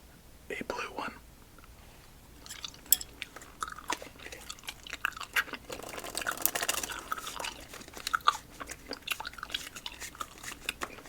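Close, soft chewing of Albanese gummy candy, with sticky smacks and wet clicks, under quiet whispering.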